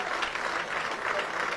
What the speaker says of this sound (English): Listen to the crowd here for Billy Jowett as he leaves the field.